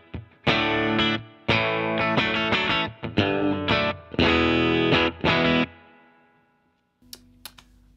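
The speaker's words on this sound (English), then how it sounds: "And then my spring reverb preset on." Distorted electric guitar through a spring reverb pedal plays chopped chords and riffs with a lingering, springy reverb tail, then fades into a few faint plucked notes.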